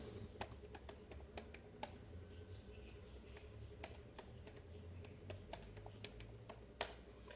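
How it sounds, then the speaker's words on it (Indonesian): Fastboot command being typed on a computer keyboard, a quiet run of irregular key clicks over a low steady background hum, with no talking. "Lalu di sini kita ketikkan"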